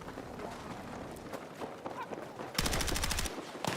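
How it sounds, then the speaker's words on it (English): A rapid burst of automatic gunfire cracks loud and close in Battlefield 6 as enemies shoot up through the floor, following a stretch of footsteps and scuffling movement. "I think they're trying to shoot me through the floor."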